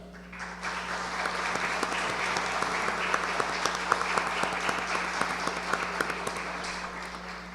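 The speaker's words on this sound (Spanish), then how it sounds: "lo que quisiera con la anuencia de la primera dama es que a este gran servidor le demos un aplauso" Sustained applause from an audience honoring a newly appointed public servant, a dense continuous patter of many clapping hands over a low steady hum, moderately distant.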